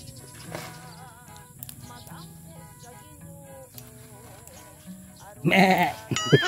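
A goat in a backyard bleats loudly and close near the end, after quieter stretches of background animal sounds and people talking.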